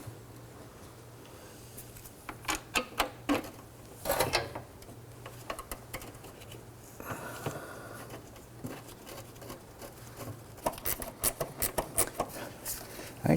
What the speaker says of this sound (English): Now we're going to go ahead and install the bolt on the back.